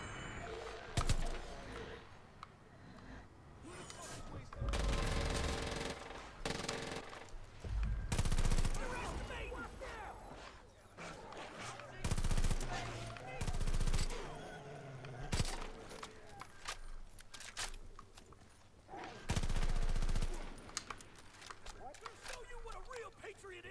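Bursts of gunfire from Far Cry 5 crack out in irregular clusters across the stretch, some rapid and sustained like automatic fire, others single loud shots, with game noise and occasional talk between them.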